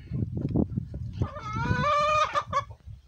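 Chickens on a farm in Puerto Rico cluck and squawk at close range, with a rising burst of excited calls in the middle over low background rumble.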